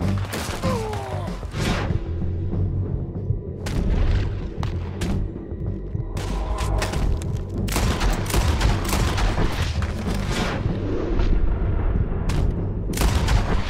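Gunfire in the Red Dead Redemption 2 video game: repeated loud gunshots and booming blasts in irregular bursts over a constant rumbling background.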